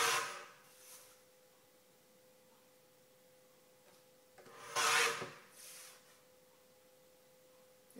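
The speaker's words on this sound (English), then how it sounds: "So if you cut the top first, just lining up the edge of the image with the edge of the guillotine," A paper guillotine cuts a printed invitation card, producing two short, close rasping slices with faint scraping and handling sounds between them.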